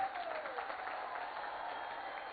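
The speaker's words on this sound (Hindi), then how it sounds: "ताली तो बजा दी" Clapping from a crowd at a BJP youth rally in Balangir, a steady muffled wash of applause heard from a distance, fairly faint and unbroken throughout.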